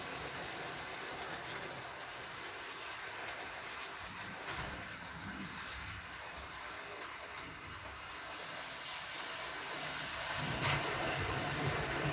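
A model railway locomotive runs steadily along its track, a continuous close rumble with faint rhythmic clicks, swelling slightly louder toward the end.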